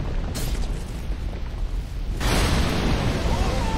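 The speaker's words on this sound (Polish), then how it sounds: "Serio? Co to tak wybucha?" A sudden loud burst of explosive rumble in Dark Souls 2 fills the mix, following a quieter stretch with faint game noise; a short boom also comes early.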